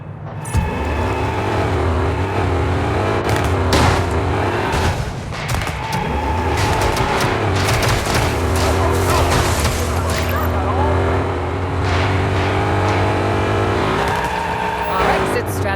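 A car drives in a crime-themed video game set in a city, its engine roaring steadily and loudly throughout, with gunfire-like bursts and game sounds layered over it.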